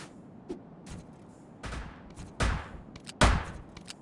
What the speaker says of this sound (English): if you press down the trigger there with your other hand, like that, it'll fire twice